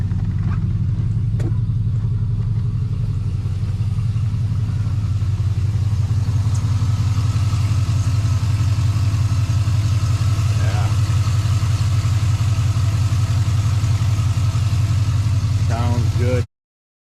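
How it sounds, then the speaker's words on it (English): A 6.0 LS V8 in an AWD Cadillac Escalade EXT pickup idles smoothly and steadily, a close, continuous low rumble with no revving, heard alone. "she's idling really smooth"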